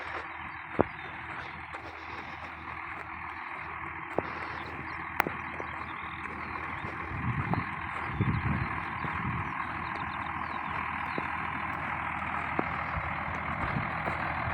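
A tractor pulling a Veles-Agro disc harrow across a stony spring field makes a steady loud engine drone with rattling and occasional sharp clanks, no talk.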